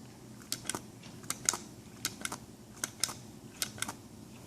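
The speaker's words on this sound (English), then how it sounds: "listen to the switch activate when I push the button" A series of sharp, light plastic clicks from a sink-top garbage disposal push-button switch, a dozen or so in uneven pairs and singles, close and fairly quiet against a soft background hiss.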